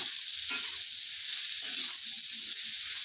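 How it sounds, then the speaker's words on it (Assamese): Eggplant and dried fish fry with salt and turmeric in a pan, giving a constant quiet hissing sizzle with soft, irregular stirring scrapes underneath. "ভালদৰে লৰাই ল'ম আৰু।"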